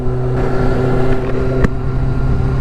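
A 2000 Kawasaki Ninja ZX6R sports motorcycle fitted with a Micron aftermarket exhaust idles loud and close with a steady low drone, then gives a short blip of the throttle before settling back.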